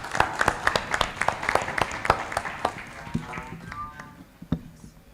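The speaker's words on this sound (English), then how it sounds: "So a round of applause for Camille Serrouchny." An audience claps for a speaker introduced on the main stage of the AMLD Africa 2026 conference at Wits University, Johannesburg: scattered, moderately loud claps from a modest crowd that thin out and fade over a few seconds.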